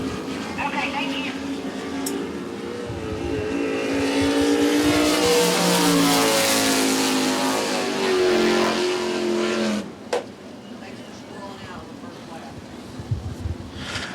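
Race cars roar around the Devils Bowl Speedway dirt oval, a loud sustained engine drone that swells and fades as the pack passes, dropping off near the end; an announcer's voice is heard over the track noise.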